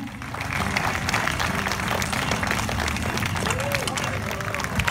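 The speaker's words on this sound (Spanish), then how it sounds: "Lo mínimo que podemos hacer nosotros es brindarles un gran aplauso para este excelente trío." An audience in Umán, Yucatán claps and cheers for a performing trio, a dense, sustained wash of applause with crowd babble throughout and voices mixed in.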